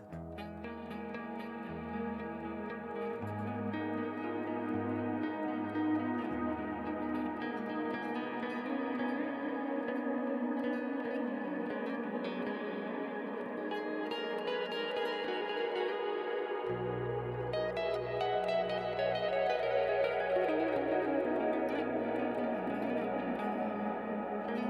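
Sustained guitar chords drenched in heavy reverb and echo, notes blurring into a thick, washy wall of sound with a deep low note underneath.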